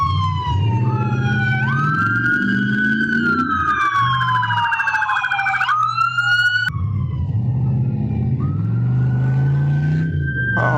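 Police sirens wail up a street, rising and falling sweeps layered over one another, loud and close, with a break in the tone before a new wail starts over the rumble of traffic.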